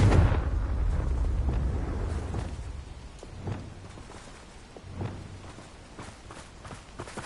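Confringo fire-blast spell cast in Hogwarts Legacy, heard as a rumbling low roar with a few sharp bursts around the middle and later, echoing over steady background noise with no talking.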